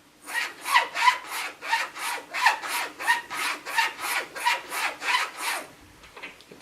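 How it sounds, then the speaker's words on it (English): A straight razor stroked back and forth on a cotton linen strop gives about a dozen steady, rhythmic rubbing swishes, close and fairly loud, with no talk. "And this is what it sounds like with a straight razor."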